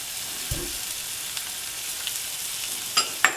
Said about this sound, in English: going to saute the mushrooms in brown butter